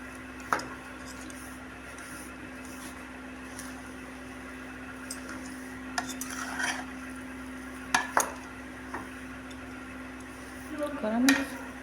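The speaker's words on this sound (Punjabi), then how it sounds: "ਤੇ ਇਹਨੂੰ ਕਰ ਦੇਣਾ ਆਪਾਂ ਚੰਗੀ ਤਰ੍ਹਾਂ ਮਿਕਸ" Panjiri being stirred together with jaggery sugar in a pan, quiet scraping and occasional clinks of a spoon against metal over a steady low hum, with brief soft knocks spaced irregularly.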